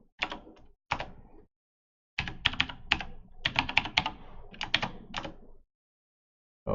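Computer keyboard typing in bursts of quick keystrokes, with short pauses between runs, close and fairly quiet, with no talk.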